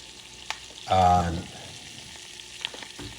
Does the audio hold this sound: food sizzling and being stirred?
yes